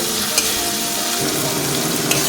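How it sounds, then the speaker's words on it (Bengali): A spice paste for a spicy-sour ghugni sautés in oil, a dense, loud, continuous sizzle and crackle filling the whole stretch, with a couple of faint scrape accents. "যতক্ষণ না ভালো করে কষানো হচ্ছে ততক্ষণ ভালো করে কষিয়ে নিতে হবে।"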